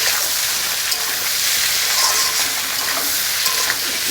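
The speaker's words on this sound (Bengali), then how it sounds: "ভেজে রাখা সবজিগুলো পেঁয়াজে দিয়ে দিচ্ছি" Previously fried vegetables tipped into onions frying in oil in a pan give a loud, close sizzle and hiss with stirring scrapes, steady throughout.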